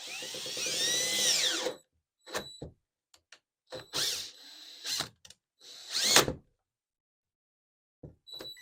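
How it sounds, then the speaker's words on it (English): Power drill boring a hole for central vacuum pipe, a long loud whining run followed by several short bursts of drilling with pauses between, fairly close. "So I'm going to drill this out here."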